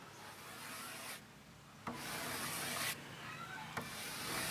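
Soft nylon brush sweeping ash off burnt shou sugi ban wood: three close, gentle scratchy strokes, each a few seconds long with short pauses between.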